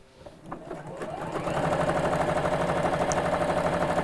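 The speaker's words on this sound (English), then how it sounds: "if you're sewing around a curve, I'll just do this quickly here" A sewing machine starts up after a few soft clicks and settles into a fast, even, close-up mechanical whirr of stitching around a curve on a fabric gift bag.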